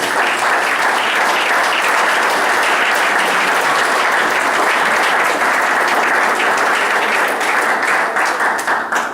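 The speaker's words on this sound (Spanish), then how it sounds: "Den un aplauso fuerte a la gloria de Dios." A church congregation bursts into strong, sustained applause during a service, a thick unbroken roar of clapping that stays loud and even throughout, with no voices on top.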